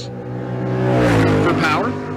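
A 1966 Chevy II drag car with a naturally aspirated LS engine revs up and swells as it passes, a short close burst. An announcer talks over it.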